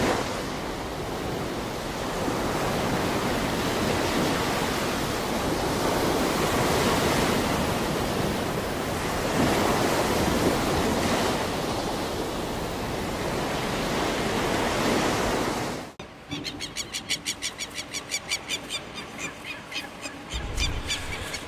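Sea waves wash steadily onto the shore in front of a house, a loud, continuous broadband roar with no voices, cut off near the end by a sharper, choppier rushing sound.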